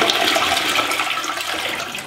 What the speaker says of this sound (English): Let's give her a old flush-a-rooney and see does it fill up more.